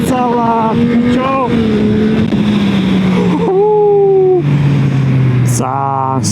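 Yamaha XSR 900 motorcycle engine revving and accelerating on a road, rising and falling engine tones with gear changes, loud under wind noise, with a voice speaking briefly over it.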